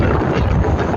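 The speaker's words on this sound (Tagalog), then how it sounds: "nagtangay pa ng matinding lakas ng hangin" Strong habagat monsoon wind, left in the wake of Typhoon Inday, blows steadily and loudly against the microphone along the coast, with a dense low roar and no breaks or voices.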